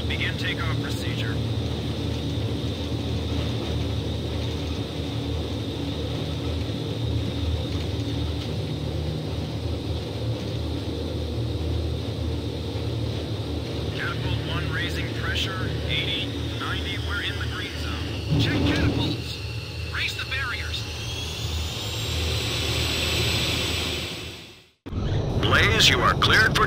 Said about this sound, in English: Next craft, begin takeoff procedure.